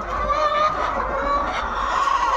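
Tiger breed chickens on a poultry farm cluck continuously in a dense, noisy chorus, many hens calling at once close up and fairly loud.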